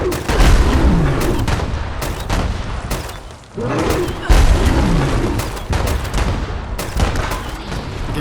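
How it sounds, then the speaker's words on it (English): Repeated loud explosions from a Vampire's auto grenade launcher with faster fire rate in Fallout 76, blasts landing close together in a near-continuous barrage for several seconds, heavy and near. "with the explosive weapons, you want to make sure that you're hitting them as low to the ground as you can"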